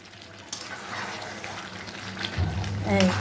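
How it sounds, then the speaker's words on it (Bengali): Potatoes frying in oil in a pan, a moderate sizzle with stirring and scraping that grows a little louder toward the end, and a voice briefly present. "এবার আমি আলুগুলো দিয়ে দেবো, আলু দিয়ে এবার ভালো করে কষাবো"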